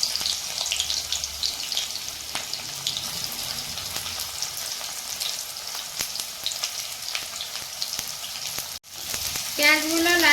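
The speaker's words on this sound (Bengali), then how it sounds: "এখন আমি কড়াইয়ে সরষের তেল দিয়ে দিচ্ছি। তেলটা গরম হোক, তারপরে পেঁয়াজগুলো দিয়ে দিচ্ছি।" Steady, loud sizzle of onions frying in hot mustard oil in a wok, a dense hiss that runs almost the whole time, breaks off for an instant near the end, then returns with a brighter spatter.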